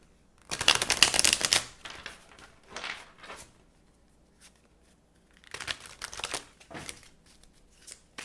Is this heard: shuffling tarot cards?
yes